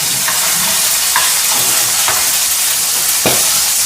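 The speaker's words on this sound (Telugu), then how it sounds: "పచ్చిమిర్చి ఇట్లా వేస్తే చాలన్నమాట" Green chillies sizzle steadily in a hot pan while cooking for a coconut and raw mango chutney, a dense continuous frying hiss broken by a few sharp stirring clicks, with no one speaking.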